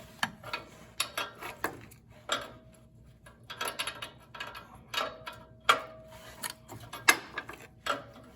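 A wrench working an oxygen sensor on a Toyota 4Runner with a 4.7 V8, giving irregular close metallic clicks and ratcheting taps in short bursts as it moves in quarter turns and is repositioned.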